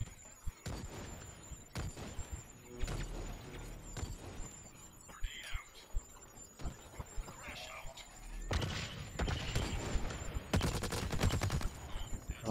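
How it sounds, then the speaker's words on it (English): Light machine gun fire in the shooter game Blacklight Retribution, quiet bursts of rapid shots and thuds scattered through the clip, growing denser toward the end, with a voice talking lightly over the action. "I got an LMG that does the work."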